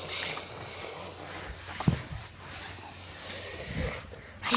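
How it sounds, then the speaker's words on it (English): An Imaginext Serpent Strike Pyramid toy gives off breathy snake hisses in several long bursts, loud and close, with small clicks of toy play between them. "I hear the snake."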